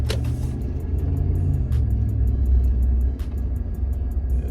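A 4th generation Ram truck fitted with an upgraded cold air intake drives along, its engine a steady low rumble heard from inside the cab that swells slightly and then eases off, with no talking.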